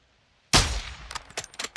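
A single loud sniper rifle shot from Call of Duty Modern Warfare 2 cracks sharply and rings out in a long decaying tail, followed by a few quieter clicks and small knocks.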